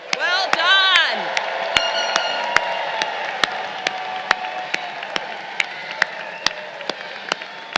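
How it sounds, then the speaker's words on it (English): A graduate commencement ceremony for the class of 2023 opens with a loud whooping cheer and a few voices. Sparse, sharp individual claps then ring out at irregular intervals over a quieter crowd. "let's give them one more round of applause."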